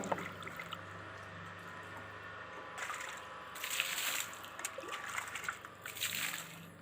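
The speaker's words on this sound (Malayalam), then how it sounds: "നല്ലപോലെ ഇളക്കുക അലിഞ്ഞു ചേരട്ടെ നല്ലപോലെ" Water sloshes and splashes unevenly as liquid fertilizer is stirred in, with louder bursts of stirring toward the end, close by and without speech.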